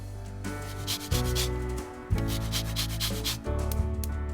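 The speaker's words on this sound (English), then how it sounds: "Then I add the finely grated zest of a lemon." Fine lemon zest being grated, with fast, dry rasping strokes that come in several bursts over steady music.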